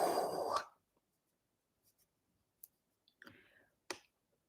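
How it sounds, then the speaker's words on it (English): A pen scratches across a handmade negative for a food-themed cyanotype: a louder stroke first, then several short, quiet scratchy bursts separated by near silence. "I'm also going to write onto my negative."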